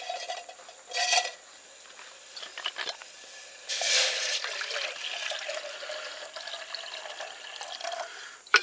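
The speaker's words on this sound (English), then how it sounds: "Put enough water in here to cook with for right now." Water being poured into a bush pot at an overnight camp, a few splashing, trickling bursts that come and go, fairly close and moderately loud, with no one talking.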